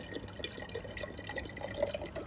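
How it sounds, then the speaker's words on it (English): Fuel trickles and drips out of a tipped-over Audi A3 fuel filter, a faint, quiet liquid pouring with small intermittent splashes. "it's actually stored fuel in the top. So all we'll do is just quickly tip it over, and you can hear it coming back out."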